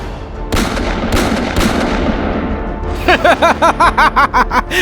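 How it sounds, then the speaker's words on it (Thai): Gunfire in a dramatized ghost story scene, several sharp shots in a row, loud and close, first spaced out, then a rapid rhythmic burst of shots. "เขาจะคว้าเอาปืนที่พกมา กวาดยิงพวกเธอหลายนัดจนตายในที่สุด"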